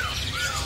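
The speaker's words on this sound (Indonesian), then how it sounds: "Ini jalak Bali yang gacorannya nih." Bali myna calling at a bird-market kiosk: a short, harsh, close squawk with a rising whistled sweep, heard alone.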